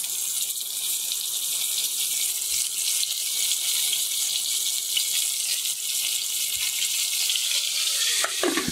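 Stuffed bitter gourds set into hot oil with cumin, asafoetida and turmeric in a pressure cooker give a steady, close hiss and sizzle that stays even throughout, with no talking.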